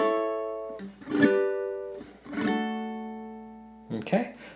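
A ukulele strumming quarter-note chord hits in a Motown song, a few spaced strums each ringing out, close and moderately loud.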